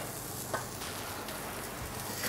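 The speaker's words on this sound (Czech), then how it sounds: "Máme rozpálenou pánvičku, dáme olivový olej, květák a žampiony." Cauliflower and mushrooms sizzle in olive oil and butter in a hot pan, a dense steady crackling hiss close up with no talking.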